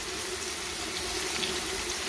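Water pours steadily into a pan of okra seasoned with chili and ground coriander, a continuous close hissing gush with no voices.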